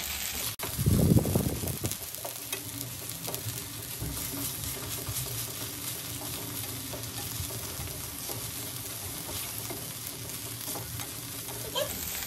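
Ground spice paste (vatan) tipped into hot oil in a home kitchen, a loud burst of sizzling at the start that settles into a steady close frying crackle with stirring scrapes.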